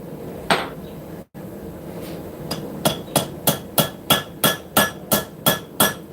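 Hammer blows forging hot metal on an anvil, first a few scattered strikes then a steady run of about ten loud, ringing, evenly spaced hits close by, with no talk.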